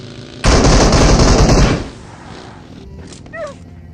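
Loud sustained gunfire in the BGMI (PUBG) battle royale game, a dense burst of rapid shots lasting over a second, followed by quieter game sounds and faint chirps.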